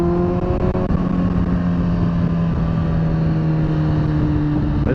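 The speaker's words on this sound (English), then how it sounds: "this race fit exhaust backfires harder than hell" A 2005 Kawasaki ZX-10R sport motorcycle with a race exhaust drones loudly and steadily up close, its pitch holding and rising slightly as it runs under throttle.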